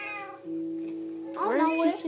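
A pet cat meows in a few drawn-out calls, with a louder, rising meow near the end, close and clear, while a steady tone runs underneath.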